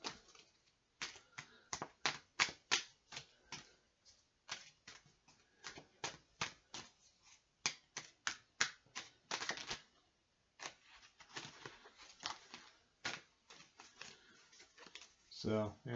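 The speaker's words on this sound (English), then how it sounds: "give it a quick shuffle" A deck of game cards is shuffled up close, producing bursts of rapid crisp riffling clicks separated by short pauses, repeating through the stretch.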